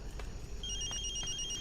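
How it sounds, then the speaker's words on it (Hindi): Phone ringing with a steady electronic two-tone ring that begins partway through, moderately close over a low background hum and a few faint clicks, with no talking. "फोन।"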